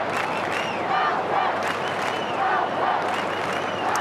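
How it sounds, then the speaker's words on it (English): A massive crowd at the MCG roars and applauds during a 2012 AFL round 3 match between Carlton and Collingwood at night, a dense, constant wash of cheering and clapping with swelling shouts. "Massive crowd at the MCG."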